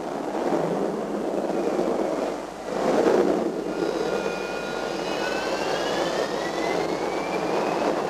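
Vulcan bomber jet engines roar as a steady, broad rush with a rising whine, continuous and fairly loud throughout, with a brief dip near the middle before the drone swells again.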